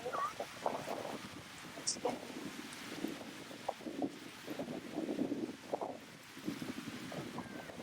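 Wind rushes steadily across an exposed spot ahead of an incoming typhoon, with gusts buffeting the microphone in uneven surges throughout.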